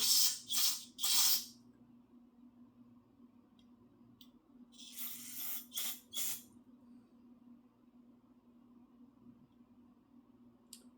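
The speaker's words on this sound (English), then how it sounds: "I'm gonna spray down the little part that was on that had the fuel line connected to it" Carburetor cleaner sprayed onto a plastic fuel line fitting from a cheap carburetor on an old pressure washer, in a few short, sharp hissing bursts, then a second cluster of bursts, over a quiet low hum.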